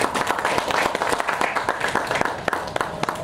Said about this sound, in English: Big round of applause for Mr. JK.